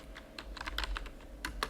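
Fast, light clicks of a computer keyboard as code is typed in a C# project, irregular bursts of keystrokes close by and fairly quiet, with no voices.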